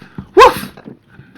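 A person's voice imitates a little puppy's bark with one short, sharp yip, loud and close, between quieter mumbles of talk.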